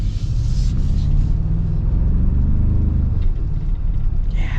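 A 2026 Toyota Tacoma's four-cylinder engine pulls hard under acceleration, a loud, deep, continuous rumble of road noise and engine drone heard from inside, with no voices.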